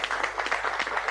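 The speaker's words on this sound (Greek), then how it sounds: "ένα χειροκρότημα, γιατί είστε κούκλες και κούκλοι όλοι" An audience at a Pontian dance and music event applauds, a brief burst of dense clapping at moderate volume, with faint speech mixed in.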